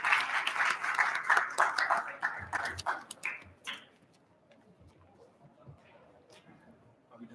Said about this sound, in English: a round of applause for our candidates